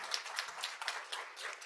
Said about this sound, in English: let's give a huge round of applause to the panelists